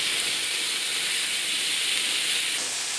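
Chunks of pork souvlaki sizzle and char on high heat, a loud, steady hiss that carries on unbroken for the whole stretch with no voices.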